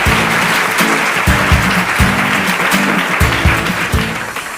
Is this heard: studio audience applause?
yes